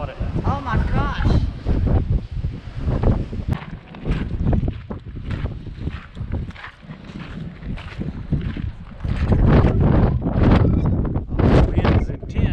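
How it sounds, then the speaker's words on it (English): A storm at the Biltmore Estate brings strong wind gusting and buffeting a nearby microphone in loud, uneven waves, with people talking excitedly underneath. "the wind is intense"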